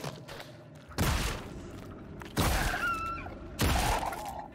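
Alien biotech weapon firing in the horror game Scorn: three loud, separate blasts about a second apart, each with a rumbling decay and a thin whine after.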